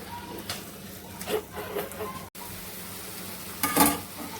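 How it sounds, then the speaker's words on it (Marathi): Chicken sautés in oil in a pan for a home-style dry chicken dish, giving a soft, low sizzle broken by a few stirring scrapes and a louder crackling burst near the end, with no talking. "ह्याला चांगलं परतून घ्यायचं"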